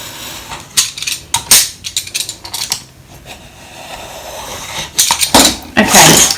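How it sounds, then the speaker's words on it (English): A paper journal page is trimmed along its top edge with a blade, making close, crisp cutting and scraping bursts broken by brief pauses, with a louder rasping stretch toward the end. "I just want to line up along the top of this page here, like so, and just trim that off"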